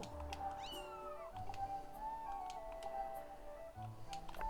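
A cat meows in Zelda Skyward Sword HD with one clear rising-falling call early on, over faint game music and soft ticking.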